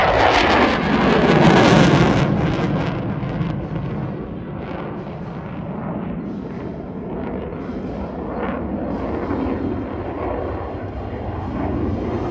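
An F-15C fighter jet at an airshow roars past, loud and rumbling at first, then fading to a steady distant jet drone with a deep low-end rumble.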